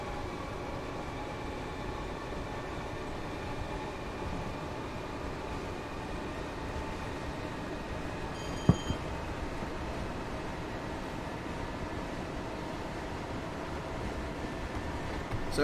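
Electric Class 320-era commuter style train, a Class 313, driven in Train Sim World 2 on a route toward Brighton, with a steady low rumble of running gear and faint tonal motor whine, plus one brief beep midway.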